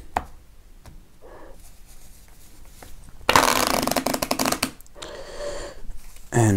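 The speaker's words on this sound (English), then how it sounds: "So I'm going to shuffle the cards." A deck of playing cards is shuffled by hand, quiet handling at first, then a loud burst of rapid riffling, a short pause and a second burst, with a final quick riffle at the end.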